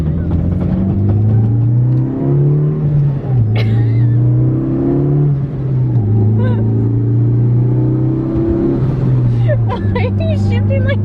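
An LS V8 swapped into a Toyota Cressida rumbles and revs while driving, its deep engine note rising and falling through several pulls and gear changes, loud and close, with people talking over it.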